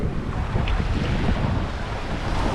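Ocean waves on Eagle Beach in Aruba wash steadily onto the shore, making a loud, continuous rushing roar with wind buffeting the microphone and no voices.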